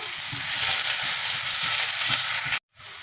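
Chopped onions frying in hot soybean oil give a loud, steady sizzle with faint stirring scrapes, cut by a brief drop to silence near the end before the sizzle resumes.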